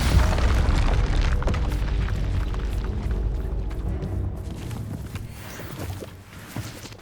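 Confringo fire spell blast in Hogwarts Legacy on PS5, a loud rumbling boom that rolls and slowly fades over several seconds.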